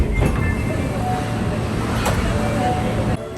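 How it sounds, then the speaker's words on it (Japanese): An Osaka Metro Sennichimae Line train pulls into the depot track across the platform at a station beside the depot, a loud, continuous rumble of wheels and motor with a couple of sharp rail squeals, then a sudden drop in level. "ちょうどホームを挟んで反対側の発着線に車庫に入庫しようとする千日前線の電車"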